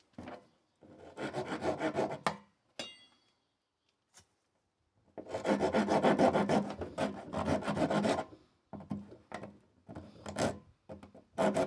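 Old, dry, dense bamboo being cut with a proper saw, close rasping strokes in a few separate bursts, with the longest run near the middle and short pauses of quiet between them, no talk.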